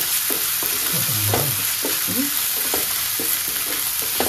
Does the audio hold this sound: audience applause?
no